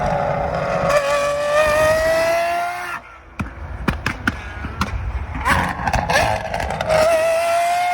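A supercar engine with a Gintani aftermarket exhaust revs loudly and rises in pitch, then crackles and pops sharply from the exhaust before climbing again.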